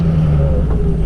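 A squatting pickup truck towing a trailer pulls away up a driveway, its engine a loud close low rumble that rises in pitch with steady acceleration.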